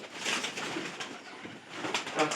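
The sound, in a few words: pigeons feeding outside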